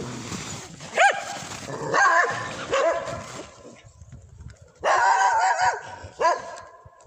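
A pack of stray dogs barks repeatedly in Russia, loud sharp barks and yips spaced irregularly with a dense cluster of several dogs barking together near the end, over faint background noise.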